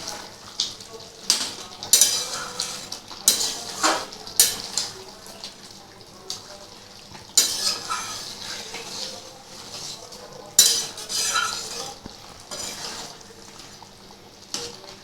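Mutton with crushed black pepper and butter is stirred in a pan for a curry, with intermittent scraping clatters of a spoon against metal over a low, soft sizzle, no one talking.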